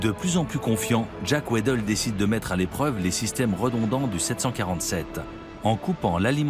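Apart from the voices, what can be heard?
No everyday noise stands out behind the speech.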